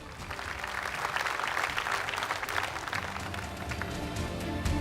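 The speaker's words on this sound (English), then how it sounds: "Give them a round of applause." Guests at the Sri Lankan Entrepreneur of the Year 2016 award ceremony give the panel of judges a round of applause, a moderate, continuous clapping from a crowd in a hall, with a low hum and some background music.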